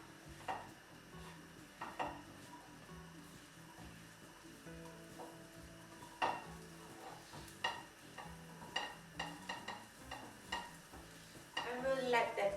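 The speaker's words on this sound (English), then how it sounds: "let that get a little crispy, so continue stirring that for a few minutes" Chickpeas fry in melted butter in a pot of butternut squash soup mixture and are stirred, with a quiet sizzle under repeated wooden and metal scrapes and knocks that grow busier toward the end.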